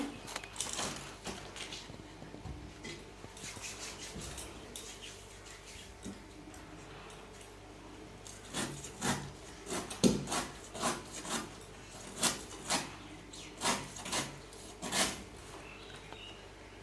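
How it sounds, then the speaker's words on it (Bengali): A knife works through a young jackfruit, sounding as a series of rasping, scraping strokes that start sparse and become a regular rhythm of close, moderately loud cuts against a quiet background. "এই এঁচোড়টা এখন কেটে নেব, যে এঁচোড়টা কেটে নিচ্ছি"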